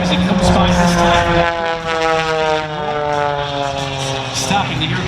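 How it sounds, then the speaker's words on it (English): A Pitts S-2 aerobatic biplane roars past at an outdoor air show, its loud propeller engine drone dropping in pitch as it passes, with an announcer talking over it. "Watch him as he comes by this time,"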